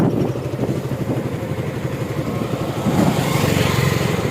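Motorcycle carrying two riders crosses a river bridge in the morning, its engine a steady, loud, close droning chug with fast rhythmic pulsing that swells slightly near the end, no talk over it.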